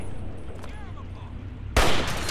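A single loud shotgun blast in Fallout 3 bursts in suddenly near the end, following a stretch of quiet game ambience with faint tonal sounds.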